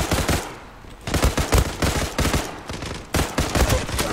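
A CX4 gun in the video game Zula fires in loud, close bursts of rapid shots, several volleys separated by short gaps, with no talk over it.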